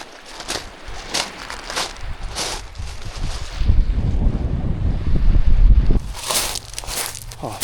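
Wind buffets the microphone on a stone beach in Santorini while waves wash in, a rough, gusty roar that swells through the middle and ends with sharp bursts of wind noise.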